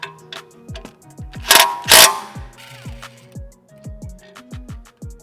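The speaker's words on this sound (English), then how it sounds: "So I'm just gonna hit this with an impact." Impact wrench spinning off a sway bar end link nut on an A90 Supra: a close, loud run of rapid ratcheting hammer clicks in bursts, with a couple of sharp high bangs partway through.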